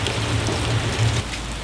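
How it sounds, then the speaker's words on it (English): Steady rain falls outside a travel trailer, a continuous broadband hiss of drops on the roof and surfaces with a low hum beneath, fairly close and even throughout, no voices. "It's raining."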